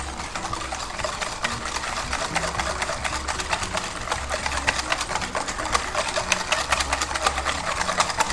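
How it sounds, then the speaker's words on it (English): Wet ingredients for spiced pumpkin cupcake batter are whisked in a bowl, giving a steady, fast, dense rattling and scraping that runs the whole time, loud and close. "I'm just whisking it all so it all comes together."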